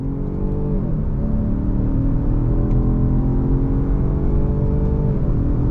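A 2021 Jaguar XF sport sedan in sport mode accelerates hard under throttle with manual paddle shifts, its engine holding a steady, loud droning growl that rises in pitch, with brief dips as gears change, heard close from the cabin.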